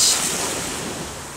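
Surf washing onto a beach in St. Lucia, a steady broad rush of waves with some wind noise on the microphone, loud at first and easing slightly, with no voices.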